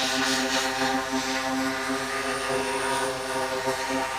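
A multirotor drone hovers while carrying a 6.5 kilogram payload, its rotors giving a steady, loud, tonal buzz with stacked harmonics that holds without pause throughout.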